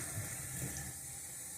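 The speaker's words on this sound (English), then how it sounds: "Get some hot water running." Hot water runs steadily from a kitchen tap into a sink while rice is being prepared, a continuous close rush of flowing water with no voices over it.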